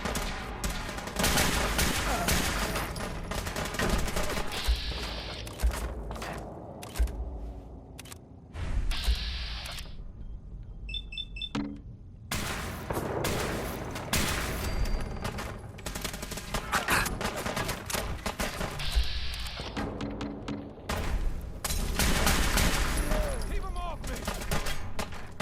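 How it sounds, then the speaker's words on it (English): Gunfire in the game Fallout 4, with dense bursts of automatic and rapid single shots rattling almost continuously, loud and close, broken by brief lulls, with voices calling out in between. "Taking fire!"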